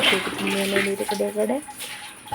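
Water splashes and runs as a bathroom floor and walls are washed down, a steady wash of liquid sound partly under a person's voice.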